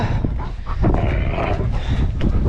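A dog at a cave house garden makes a steady, drawn-out vocal groan or whine, close and fairly loud, as if asking for something, over some background noise.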